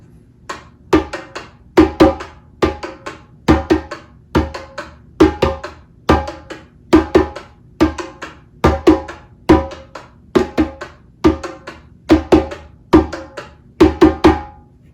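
Hand drum playing a steady repeating groove together with a phone recording of another drum pattern, sharp slaps and deeper tones in a regular rhythm, close and fairly loud, with no talking.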